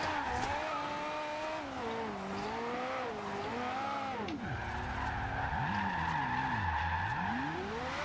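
Ferrari F40 tires squealing and skidding through a drift in Forza Horizon 2, a loud continuous screech with wavering pitch sweeps over steady engine drone, dipping and rising as the car slides.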